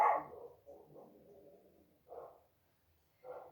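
A dog barks during a gentle indoor yoga session: one sharper bark followed by softer grumbling barks and two more short yaps, fairly faint and alone with no talking.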